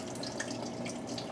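Coolant drains out of a Jeep Wrangler water pump with a steady trickling, dripping wash of liquid, close and continuous, with no talking.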